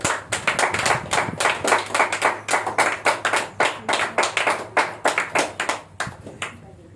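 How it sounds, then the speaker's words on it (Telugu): A church congregation clapping loudly in rhythmic bursts of hand claps, a dense crowd sound that rises and falls in quick repeated waves, with a little talk underneath. "బాగుంటే గట్టిగా చప్పట్లు కొట్టాలి"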